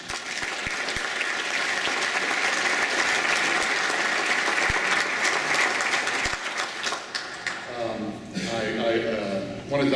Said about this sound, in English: Please, another round of applause for Jim.